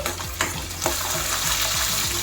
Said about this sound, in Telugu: ఒకసారి మూత తీసి ఇవన్నీ కలుపుకుందామండి